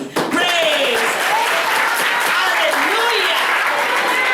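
Sunday church congregation clapping in praise during a communion service, brisk sustained applause with voices calling out over it.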